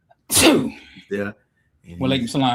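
A single sharp sneeze bursts out close to the microphone, followed by someone speaking a short greeting.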